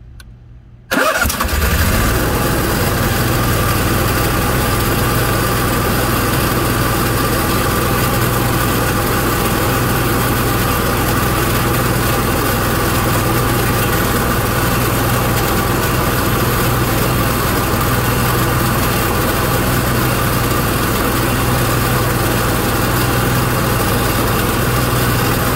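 An Onan gas generator engine starts after a brief quiet moment, then runs steadily at a constant, fairly loud drone for the rest of the time, with no talk.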